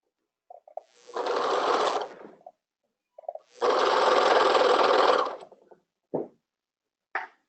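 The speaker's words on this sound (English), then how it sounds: "Now I'm going to go to the other side and serge the other center back." A serger stitching the center back seam of a tutu, two sustained close bursts of rapid whirring separated by a pause, each with short clicks before and after, followed by brief thumps.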